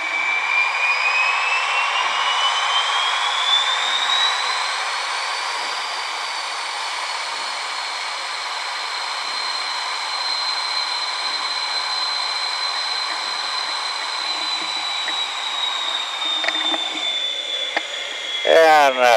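A sustained jet whine from the engines of L-29 jet aircraft taxiing in formation training, loud and steady with a slowly shifting high pitch, and a brief rattle near the end.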